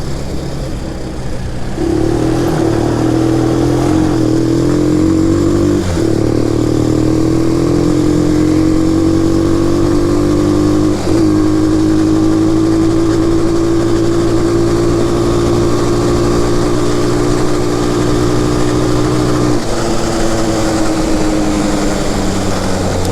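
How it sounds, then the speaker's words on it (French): Shineray 250 Chinese quad bike with a four-speed gearbox, its engine running loud and close for a long stretch, pitch rising and holding as it revs, with gear changes. "c'est parti pour le test du quad. Donc c'est un Shinrei 250 comme je vous ai expliqué, donc c'est un quad chinois."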